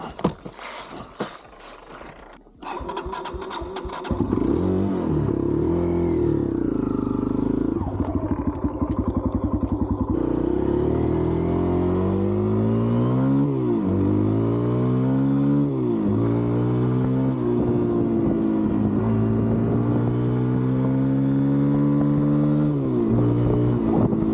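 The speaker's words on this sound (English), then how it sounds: "Just gonna ride the KLX first so Pat can get comfortable with the Talaria." A Kawasaki KLX dirt bike cruises around neighborhood streets, its engine close and loud, revving up and shifting through gears in repeated rising pulls after a few clattering starts.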